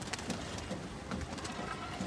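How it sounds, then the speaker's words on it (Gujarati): Pigeons coo nearby in soft, repeated throaty calls over faint background noise. "કબૂતર આપડા ઉડી ગયા હે"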